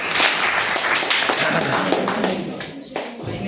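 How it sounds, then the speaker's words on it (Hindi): Children clapping together for a correct answer in a school general knowledge quiz, a burst of close, dense claps that thins out toward the end, with some voices mixed in. "अरुणन के लिए ताली बजाइए"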